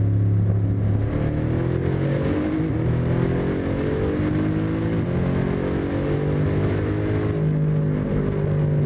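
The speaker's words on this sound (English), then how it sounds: "Already, the Mercedes win as far as exhaust sound." Exhaust of a Mercedes race car in Assetto Corsa, revving continuously and loudly with rising and falling engine tones as it accelerates through gears.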